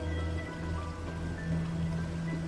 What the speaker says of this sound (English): The next afternoon, there's a terrible downpour.